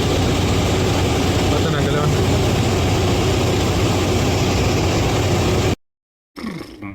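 Jet engines of an Airbus A330-300 at Nairobi's JKIA airport give a loud, steady broadband roar that fills the whole stretch, then cuts abruptly to silence before a faint return near the end.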